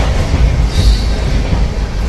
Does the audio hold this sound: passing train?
yes